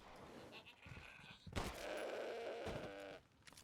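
Goat bleating in the video game Resident Evil Village, a couple of loud, wavering cries rising after a quieter stretch of background game sound.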